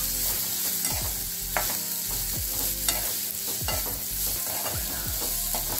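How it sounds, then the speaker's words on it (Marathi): Cleaned cluster beans, about 200 grams, go into a hot tempering with turmeric, crackling steadily while a spoon scrapes the pan in repeated rhythmic strokes, close and clear with no voices. "तर आपण त्यात फोडणी घालूया।"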